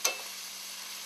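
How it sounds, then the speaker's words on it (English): Enchilada mix being stirred in an electric fryer, a soft continuous frying hiss after a brief scrape of the spoon, close and steady with no voices. "Let's stir this mix a little bit."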